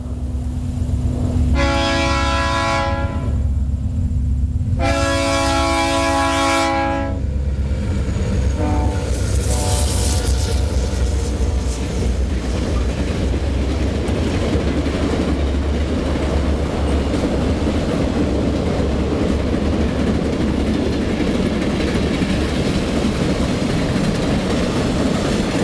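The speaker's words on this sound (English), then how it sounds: "A BN F-45 moves its freight on joint Milwaukee BN track and enters BN rails for its trip downriver." BN F-45 diesel locomotive hauling a freight train on joint Milwaukee BN track in 1973, two long loud horn blasts over a heavy engine rumble, then steady rolling clatter of wagons passing close by.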